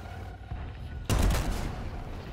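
A tank's main gun fires once in World of Tanks, a sudden loud blast with a rumbling low tail that lingers over steady battle ambience.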